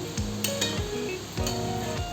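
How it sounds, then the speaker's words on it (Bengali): Jackfruit seed pitha frying in oil, a dense steady sizzle with a few quick clinks and shuffling scrapes as the pieces are turned over. "এখন আমি ওইগুলোকে উল্টে পাল্টে দিয়ে ভেজে নেব"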